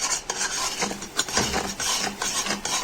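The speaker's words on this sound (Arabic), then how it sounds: "نقلب كده." Qishta cream boils in a pot while a spoon stirs it steadily, making a continuous close scraping, rubbing sound with a bubbling hiss underneath.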